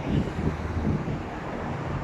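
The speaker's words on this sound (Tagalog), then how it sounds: "Umamig na naman ang hangin." Cold wind buffeting an outdoor microphone, a steady low roaring rumble that stays loud and constant throughout with no voices.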